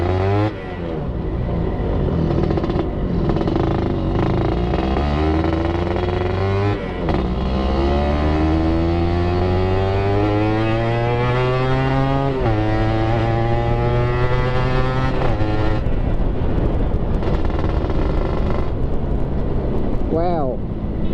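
A Suzuki Satria 120R motorcycle with an aftermarket exhaust revs loud and close, its engine note climbing through repeated rising gear pulls and dropping back between shifts, with a busy street around it.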